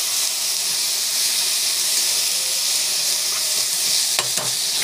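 Greens and tamarind mix sautéing in a pan while being stirred, a loud continuous sizzle and steam hiss with a few scraping clicks of the spoon near the end, close and without talk.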